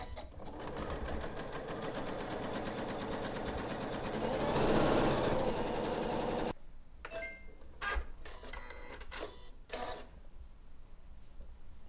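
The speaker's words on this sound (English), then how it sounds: "sewing them right sides together with a quarter inch seam allowance" A Janome sewing machine runs steadily and loudly for about six seconds, stitching fabric strips with a quarter-inch seam, then stops, leaving scattered clicks and handling sounds.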